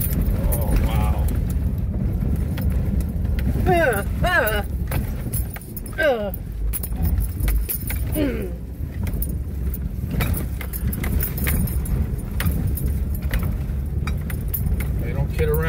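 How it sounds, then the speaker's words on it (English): A Subaru Outback rumbles and rattles over a rough, rocky high-clearance road, with a steady loud engine and road noise, jangling keys and knocking from the cabin, and people talking inside the car. "They don't kid around when they say you need a high clearance. Thanks to the Subaru Outback."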